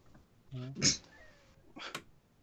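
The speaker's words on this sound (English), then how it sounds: "There was a cat meowing and no one was mentioning it." A cat meows in short, separate bursts: a tonal cry, then a louder sharper call, then another brief meow, with faint background noise between.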